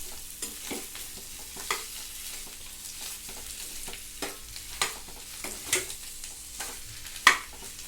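Boiled potatoes tossed into a pan of fried chillies are stirred, giving a soft background sizzle with a series of irregular scraping and tapping strokes from the spoon, one sharper knock near the end.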